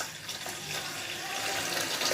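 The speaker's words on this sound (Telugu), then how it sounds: "నేనైతే ఒక చెంబుడు నీళ్ళు అయితే పోసిన" Water splashes and pours steadily for a couple of seconds, close by, with no voices.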